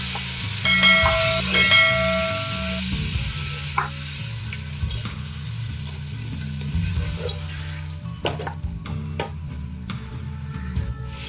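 Chopped tomatoes and green chillies hit a hot pan of beef karahi and sizzle loudly and steadily, with scattered clinks of a utensil against the pan throughout.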